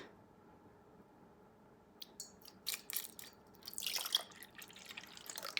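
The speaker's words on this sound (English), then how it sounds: "We're going to add 250 milliliters of whole milk." Whole milk poured into gluten-free, egg-free black currant, lemon verbena and white chocolate muffin batter, heard as faint, soft splashing and gurgling that builds after a quiet start.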